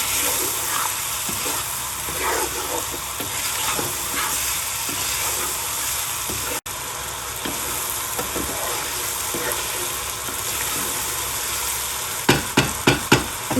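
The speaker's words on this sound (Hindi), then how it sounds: "इसको 2-3 मिनट भूनेंगे।" Potatoes and vegetables for pulao sizzle steadily in a hot pan throughout, with occasional stirring scrapes and a few sharp taps near the end.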